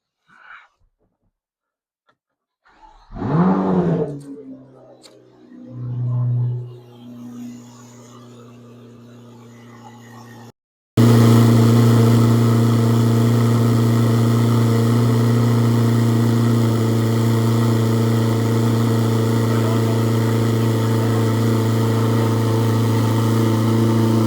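A C8 ZR1 sports car engine cranks and catches with a loud rising rev, settles briefly, then holds a steady, loud rumbling idle for a long stretch.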